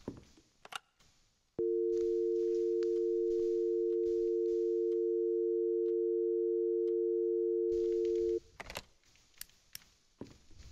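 A telephone in a horror video game gives a steady, unbroken electronic dial tone that holds for about seven seconds, with faint clicks and soft room noise before and after it.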